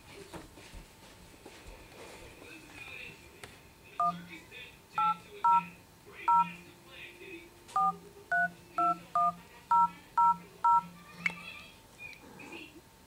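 An Android phone plays touch-tone dialing beeps, about a dozen short, evenly spaced tones in a quick burst after a few seconds of low background sound.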